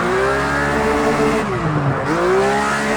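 Porsche GT3 RS racing through a corner in a car racing video game, a loud sustained engine note rising and dipping as the car slides through the bend, with a brief lull mid-corner before revving back up.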